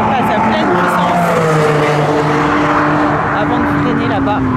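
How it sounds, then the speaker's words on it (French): Race car at full power on a circuit near the start-finish line, a loud sustained engine roar with a gliding tone as it passes close by, dominating throughout, with a voice speaking over it. "Voiture là qui passe à pleine puissance"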